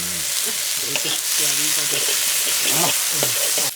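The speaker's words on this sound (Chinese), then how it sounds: "搞锅里头，鸡蛋下锅，" Eggs stir-fried in a wok in a remote clifftop home, a loud dense sizzle with stirring scrapes running throughout, with a voice audible underneath.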